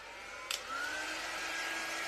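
A steady, close whooshing hum of a hair dryer blows continuously after a brief click as it switches on.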